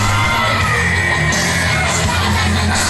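A PWC pro wrestling crowd yells and whoops loudly, a dense roar of shouting voices filling the short stretch without pause.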